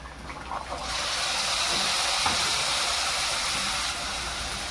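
Green beans dropped into a hot pan seasoned with a spoonful of garam masala, setting off a loud, steady sizzling hiss that starts abruptly and holds strong for several seconds.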